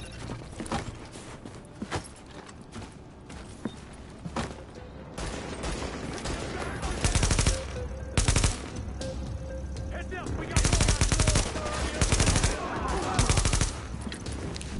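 Rifle shots and automatic machine gun bursts ring out in The Division, mostly mid-distance and moderately loud, growing denser in the second half amid a steady combat din.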